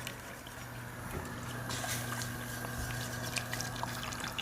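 Whole milk pours into an Alfredo sauce base, a faint steady liquid trickle under a low background hum, with no talking.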